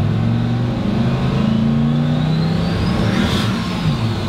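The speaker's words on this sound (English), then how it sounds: "Did you hear the 10 pounds of boost? Yep, it sounded awesome." A wrecker truck's engine pulls hard under acceleration with about ten pounds of turbo boost, a loud, continuous throaty drone with a rising whine near the end, heard up close from inside the cab.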